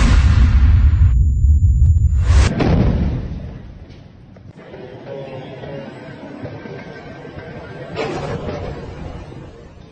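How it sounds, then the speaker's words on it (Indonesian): A D9 bulldozer blown apart by an explosive device near Tulkarem: a heavy, loud low boom bursts out at the start, then fades into a dull rumble, with a second, smaller burst later on. "Namun mendadak bulldozer tersebut meledak dihujani alat peledak Al-Sakaki milik Brigade Tulkarem."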